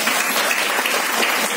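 Short, brisk burst of audience applause during a talk on hormonal balance, dense clapping of even loudness throughout.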